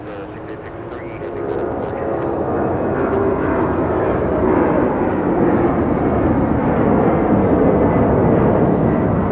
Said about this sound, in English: This is Mass Air Cargo flying to Guadalajara.